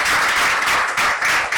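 Crowd applause at a public address in Sierra Leone, dense sustained clapping filling the whole stretch, loud and steady with no voices over it.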